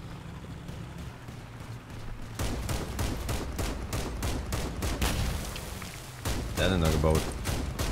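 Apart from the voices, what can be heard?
minigun gunfire in the video game Crossout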